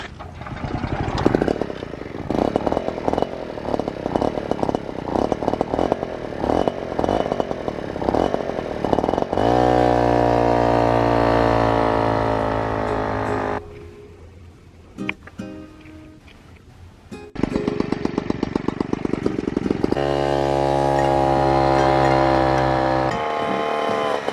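A small two-stroke Piaggio Ciao moped engine with a Simonini exhaust runs nearby, buzzing and revving up in rising pitch sweeps, dropping to idle between bursts.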